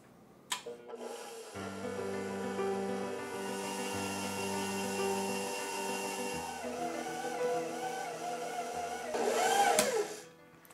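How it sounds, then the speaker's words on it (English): A stand mixer running steadily while kneading sweet Dutch Easter bread dough, a continuous motor hum with shifting tones, picking up and grinding louder near the end. "I'm gonna put the bowl on the mixer to keep going"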